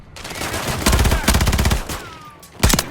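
Rapid automatic gunfire rattles in Modern Warfare 3 in three close, loud bursts of machine-gun shots separated by short gaps, with faint game effects between them.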